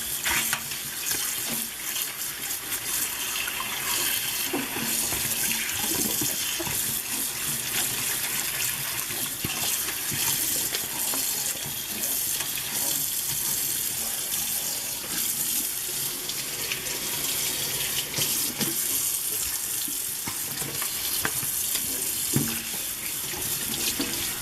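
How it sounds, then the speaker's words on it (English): A silicone baking mat with baked-on brownie bits being washed by hand under a running kitchen tap; a steady, close gush of water continues throughout, with no talking. "So I'm going to clean it by hand."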